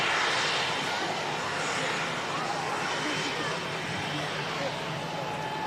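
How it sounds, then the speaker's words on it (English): A Cessna Citation XLS business jet arriving at Manchester Airport gives a loud, steady broadband engine roar that fades slightly over several seconds, with voices faintly underneath. "So that's the Cessna Citation XLS in from Exeter."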